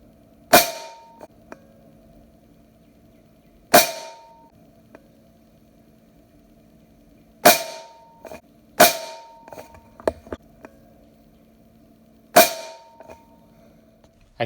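A Benjamin Marauder air pistol fires Air Arms Diablo Field pellets in five sharp, close cracks spaced a few seconds apart. Each crack is followed by a brief ring and a faint pellet impact, with quiet between shots.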